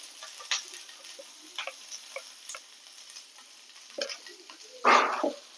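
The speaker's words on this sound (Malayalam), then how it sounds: "നന്നായിട്ടൊന്ന് ഇളക്കി കൊടുക്കാം" Okra stirred in a pan with oil, salt and turmeric: sparse light scrapes and taps of a utensil against the pan, ending in a louder, brief scraping burst.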